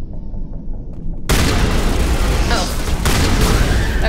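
Plasma explosions in Mass Effect Legendary Edition during a hostage situation, a sudden loud, dense booming blast that erupts after a quieter stretch with some talk, then sustains as a rumbling barrage with another surge near the end.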